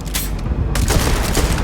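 Dense, booming bursts of rapid gunfire in the space game Starfield, loud and continuous.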